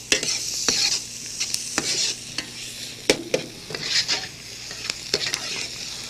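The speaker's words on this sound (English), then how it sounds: "These flat tin frying pans are very good for fast work." Onions sizzling and frying in a flat tin frying pan while being stirred, with a steady hiss broken by frequent sharp scrapes and clinks of a utensil against the pan, close and fairly loud.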